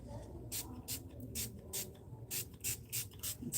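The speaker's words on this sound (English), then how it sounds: "And spray everything, including my paper and my paints." Spray bottle spritzing water over paper and paints, a run of short, soft hissing bursts in an irregular rhythm, close by but quiet.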